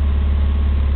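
An E85-converted 1988 Dodge Omni engine idles just after a cold start, a loud, steady, close low rumble with an even pulsing throb that holds throughout, no voices.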